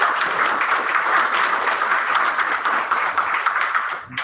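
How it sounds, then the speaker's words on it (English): An audience at an African American studies teleconference gives Dr. Curry another round of applause: a lively, crowded burst of clapping that holds steady for several seconds, then tapers off at the end. "can we give another round of applause to Dr. Curry, please?"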